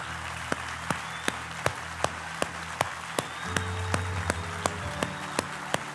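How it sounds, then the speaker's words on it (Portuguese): A church congregation claps during a sermon, with sharp, evenly spaced claps over a steady wash of crowd applause, loud and close. "Aplaude o Senhor bem forte por essa palavra."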